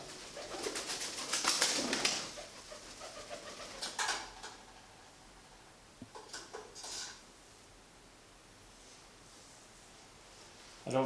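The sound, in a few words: excited pigeon cooing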